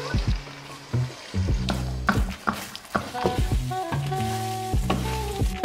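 Eggs fry in olive oil in a pan, crackling under louder rhythmic music that comes and goes.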